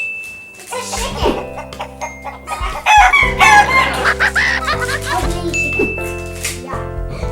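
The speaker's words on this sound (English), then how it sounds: "It's a chicken." A toy or game chicken sound effect in a play kitchen: loud clucking building into a crowing call, with tinkly musical jingles, layered over a bright synthetic backdrop.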